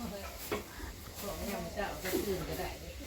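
Beef stir-fries in a pan at a family gathering, giving a faint, steady sizzle with intermittent stirring scrapes and soft background voices.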